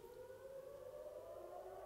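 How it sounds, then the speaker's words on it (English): A civil defense siren wails steadily in the distance on Memorial Day, a sustained droning tone held throughout. "there is a siren, so we need to stay quiet for a minute"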